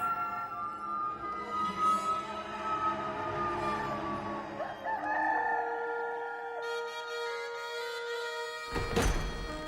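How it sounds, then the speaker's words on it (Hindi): A rooster crows in a dramatized Gospel of John scene of Jesus' life: one long, loud, near call over sustained musical tones, followed by a dull thump at the end. "मुर्ग ने बांग दी।"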